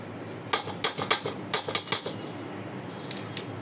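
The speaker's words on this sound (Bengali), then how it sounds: "এখন চাল দিয়ে দিব।" Rice grains poured into a pot while layering beef kacchi biryani, heard as a series of sharp, dry rattling bursts in quick clusters, fairly close, then trailing off into a couple of softer patters.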